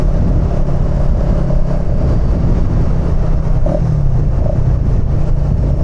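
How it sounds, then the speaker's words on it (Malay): A lorry drives past at night, a steady loud low rumble of engine and tyres filling the whole stretch without a break. "Ada lori pula geng."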